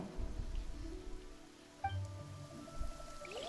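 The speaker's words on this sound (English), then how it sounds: "this rain just makes it feel like the rain is causing the cold" Steady rain falls in the Genshin Impact video game, a soft, constant hiss with faint low rumbles and a few quiet chiming game tones, heard alone without talking.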